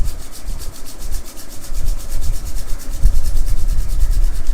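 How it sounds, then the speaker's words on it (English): Palms rubbed briskly together to warm them during a yoga routine for migraine and headache, a steady, close, continuous swishing friction that runs without a break. "just rub your hands together like this"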